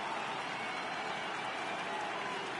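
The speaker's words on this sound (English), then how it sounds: "The crowd is ready to erupt as their guys get set to take the field" Baseball crowd in MLB The Show 18 during a World Series game in Houston, a dense steady roar of cheering and applause filling the stadium, constant and moderately loud.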